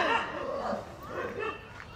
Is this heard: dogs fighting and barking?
yes